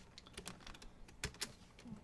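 Quiet, brief computer keyboard typing as Android calculator code is entered, a few soft scattered key taps.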